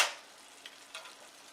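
Red snapper simmering in a spicy Mexican tomato sauce gives a short, louder sizzling burst at the start, then settles into faint, steady crackling with a couple of small pops.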